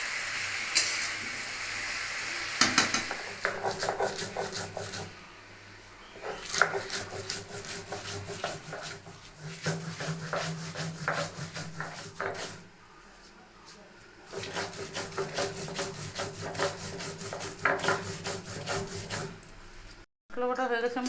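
Mustard spice paste is ground by hand on a grinding stone, giving repeated close rasping, rubbing strokes in long bursts with brief pauses between them.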